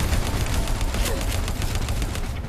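Rapid bursts of gunfire from the PC video game Terminator Salvation, loud and dense, crackling shots packed tightly together with a heavy low rumble throughout.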